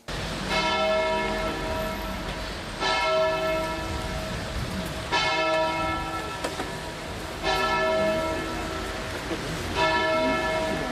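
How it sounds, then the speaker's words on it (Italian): Church bells in Campodarsego, Italy, toll slowly and loudly for a funeral, a deep ringing stroke roughly every two to three seconds with long resonant decay, over a soft hiss of steady rain. "Rintoccano le campane in un pomeriggio di pioggia incessante"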